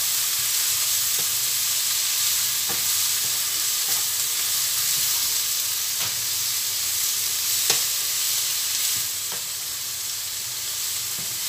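Bean sprouts and tofu stir-frying in a pan, a steady loud sizzle with faint periodic scraping stirs, no talking.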